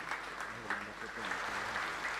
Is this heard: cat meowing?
no